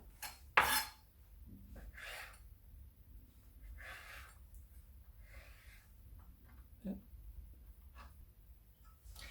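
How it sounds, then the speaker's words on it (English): A sharp knife cuts through citrus peel on a board while shredding it for marmalade, giving sparse, faint taps and scrapes with a few louder knocks against a quiet background. "make sure you've got a sharp knife, and away you go till you've cut the whole lot up"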